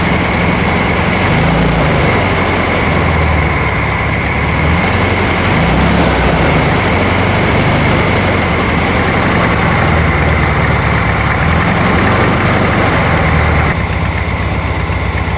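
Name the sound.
1964 VW Beetle 1600cc dual port engine running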